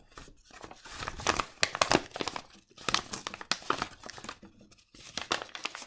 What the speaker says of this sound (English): I'm going to tear this sort of section down here because I quite like that dark section